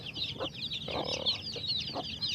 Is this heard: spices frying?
no